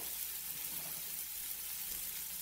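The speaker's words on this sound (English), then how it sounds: "I got those sausage already cooking in the pan" Pan sausage patties and small fully cooked link sausages fry in a pan for breakfast wraps, a faint, steady sizzling hiss with no break.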